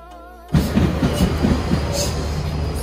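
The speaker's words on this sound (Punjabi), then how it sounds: "ਆਪਣੀ ਟ੍ਰੇਨ ਆ ਗਈ" A Canadian GO double-decker commuter train pulls into a station platform. After half a second of quiet, a loud, close rumble sets in, with rhythmic wheel clacking and a continuous rolling roar.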